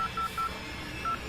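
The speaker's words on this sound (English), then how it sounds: "I had the sense to take out my phone and dial 911" Four short keypad tones dial 911 on a phone in a hushed setting, each beep a brief bright pulse, three in quick succession and a fourth after a pause, alone with no talk.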